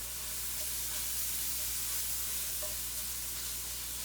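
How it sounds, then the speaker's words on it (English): Onions sizzling in a hot cast iron pan, a steady soft hiss with faint crackles, constant and close throughout with no talk. "this cast iron pan is nice and hot, so these onions are reducing down quick."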